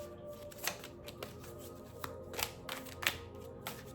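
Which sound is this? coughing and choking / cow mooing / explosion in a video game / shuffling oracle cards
shuffling oracle cards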